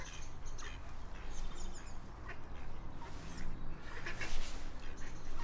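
Soft quacks from a friendly duck perched close by on a person's shoulder outdoors, a few short bright calls scattered over faint background ambience.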